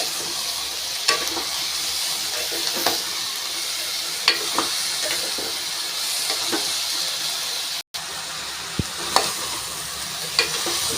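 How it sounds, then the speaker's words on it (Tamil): Vegetables for kurma sizzle and hiss steadily in a hot pan, with scattered scraping clicks of a spoon stirring them, close and continuous. "இப்போ நம்ம வெஜிடபிள்லாம் ஆட் பண்ணிக்கலாம் ஃப்ரெண்ட்ஸ் ஆட் பண்ணிவிட்டு நல்லா மிக்ஸ் பண்ணிடலாம்"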